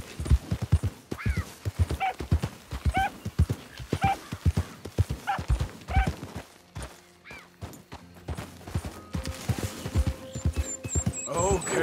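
A horse trots and canters in Red Dead Redemption 2, its rhythmic hoof clops close and clear. A mechanical hum and other game sounds take over briefly later.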